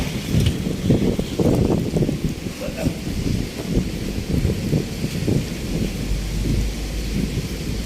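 Loud, gusty wind roars and buffets continuously with deep rumbling, with no talking.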